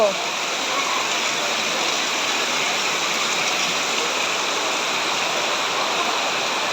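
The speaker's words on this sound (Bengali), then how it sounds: "টিনের চালে ঝমঝম বৃষ্টির শব্দ" A dense, steady roar of heavy rain pours down without letup, loud and close, drumming on a tin roof.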